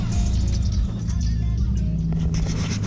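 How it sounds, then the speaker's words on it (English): A diesel RV engine idles steadily nearby, a continuous loud low rumble with a faint higher hiss over the whole stretch and no break or change in pace. "I'm gonna turn off this noisy diesel"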